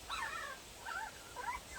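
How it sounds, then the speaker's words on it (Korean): A puppy whimpers in a series of thin, high, wavering whines, three or four short cries at a modest level over a soft background hiss. "강아지 소리가 나니까"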